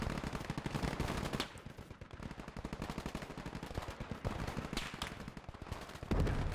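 Maxim machine gun in the Gates of Hell war game, belt-fed rapid fire in long sustained bursts of evenly spaced shots, with brief pauses and a heavier burst near the end.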